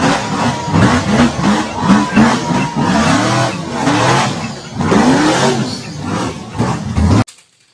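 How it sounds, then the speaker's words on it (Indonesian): Toy off-road car with a busy, buzzing engine-like whir that rises and falls in rapid pulses, loud and close for about seven seconds before cutting off abruptly, with no talking over it. "Ini ada mobil off-road."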